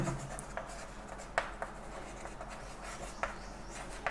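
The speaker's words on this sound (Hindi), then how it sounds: "तो इसको हम लिख देंगे।" A pen scratches softly on paper while a linear-equations maths problem is written out, broken by a few sharper taps of the tip. It is close and quiet, with no one talking.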